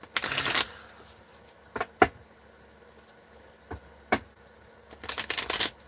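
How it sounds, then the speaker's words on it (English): A tarot deck is shuffled by hand in rapid riffling bursts at the start and end, with a few sharp single card taps and snaps between them, close and crisp against a quiet room. "Let's shuffle."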